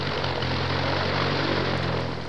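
A propeller aeroplane in flight gives a steady, loud, close droning hum with a low rumbling engine tone, continuous and unchanging with no voices.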